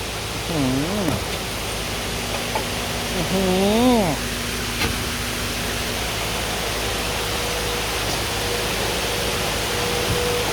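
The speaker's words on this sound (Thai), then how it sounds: "ฝนก็ตกหนักเลย" Heavy rain pouring down in a steady, dense hiss that fills the whole clip, with a voice speaking briefly over it early on.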